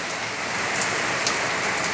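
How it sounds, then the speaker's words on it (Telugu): Steady rain pours down in Kuwait with a dense, even hiss of drops hitting surfaces throughout, close and continuous, with no voices. "వర్షం అయితే పడుతుంది చూడండి ఎలా ఉందో"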